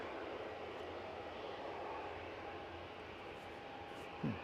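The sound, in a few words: airplane flying past at Edinburgh Airport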